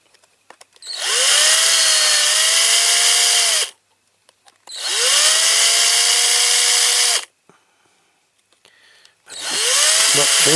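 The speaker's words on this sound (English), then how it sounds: "So I'm going to have to, I am going to have to drill that." Power drill boring out a rivet on a restored Matchbox King Size K-24 Lamborghini Miura toy car: three loud bursts of whining drilling, each about three seconds long, separated by short quiet pauses.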